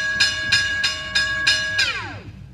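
A train sound effect on a railroad: five rhythmic chugging bursts under a sustained whistle tone, which then bends sharply downward in pitch and fades, loud and close.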